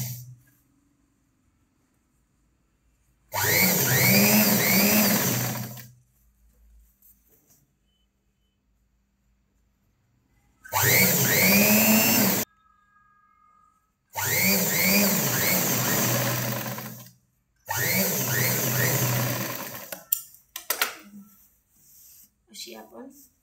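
A sewing machine runs a straight seam on a garment in four separate bursts of loud, close whirring and rattling, a few seconds each, with near-silent pauses between them.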